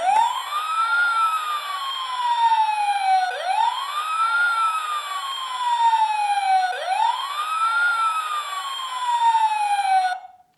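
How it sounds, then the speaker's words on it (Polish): An electronic siren from a Dickie Toys police van wails in repeated rising-and-falling sweeps, three full cycles, loud and steady, cutting off abruptly at the end. "po włączeniu tego przycisku widzimy, jak światła e, migają i słyszymy syrenę"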